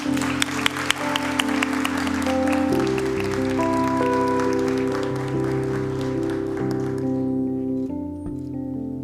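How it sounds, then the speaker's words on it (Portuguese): Audience applause fills a formal solemn session for the Tiradentes Medal, a steady, dense clapping that holds throughout while organ-like sustained tones play underneath. "Vamos aplaudir, gente?"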